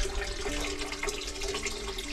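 Water pours steadily into an aquarium fish tank as it fills, a continuous splashing gush with a low hum underneath, close and constant throughout.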